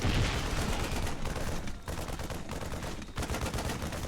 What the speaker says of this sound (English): this group of Marines shooting these SCVs from the high ground